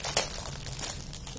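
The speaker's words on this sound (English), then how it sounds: "I'm going to now open up the cellophane bag." A cellophane bag from a diamond painting kit is torn open close up, giving loud, continuous crinkling and crackling throughout.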